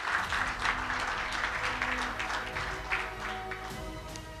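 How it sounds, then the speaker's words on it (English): Audience applause at a panel session of a conference on mobilizing capital for Africa's financial resilience, steady and sustained clapping from a large hall filling the whole stretch at moderate loudness. "please give him a warm round of applause."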